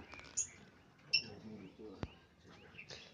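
Javan pied starlings (black starlings) kept free outside cages at a bird farm give a few short, sharp whistled chirps and calls, moderately near, over low background noise.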